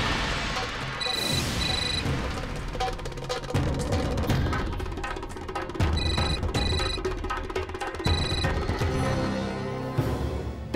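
An unanswered telephone rings in repeated electronic bursts, loud and close, interleaved with dramatic music hits and crashes.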